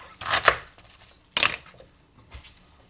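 A kitchen knife chopping through a head of cabbage: two loud, crunchy cuts a second apart, then a fainter thud on the board, close and alone without talk.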